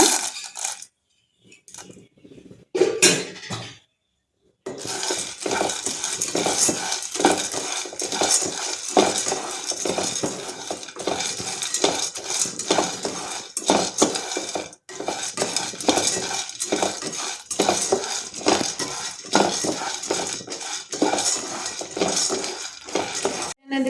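Already-roasted peanuts being stirred and reheated in a pan, with steady metallic scraping and light clinking of a spoon against the pan after a few short starts, continuing close and busy with no talking.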